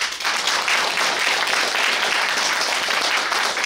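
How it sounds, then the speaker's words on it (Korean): Sustained, loud applause from a crowd at a branch office opening ceremony in Busan, a thick, continuous wash of many hands clapping at once with no pauses. "박수 주세요."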